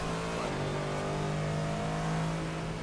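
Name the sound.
race car engine revving in a racing video game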